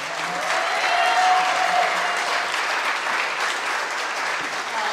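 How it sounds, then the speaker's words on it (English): An audience at a Creative Mornings Tucson talk applauds, with steady, full clapping from a crowd holding for about five seconds and a faint voice underneath. "let's give another huge round of applause"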